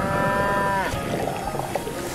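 A toy cow lets out a long, loud distressed moo with a clear tonal pitch, sliding downward and breaking off partway, followed by noisy rustling and knocks from a farm animal diorama by a river.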